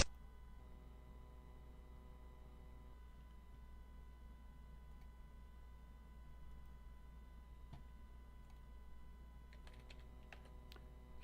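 Quiet, steady tapping on a computer keyboard while logging in, keystrokes fairly even in rhythm with a short burst of sharper clicks near the end, close and soft over a faint room hum.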